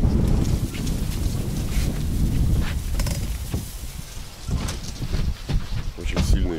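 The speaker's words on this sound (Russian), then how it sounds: "Очень сильный ветер." Strong wind on a river rafting trip roars and buffets the microphone throughout, a dense low rumble that swells and dips with gusts.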